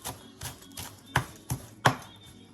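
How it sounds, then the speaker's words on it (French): Knife chopping fresh coriander on a cutting board for a steamed ginger cod recipe: a handful of crisp, separate taps, soft at first and then sharper, spaced roughly every third of a second, close and clear with no talk. "on hache un peu la coriandre quand même"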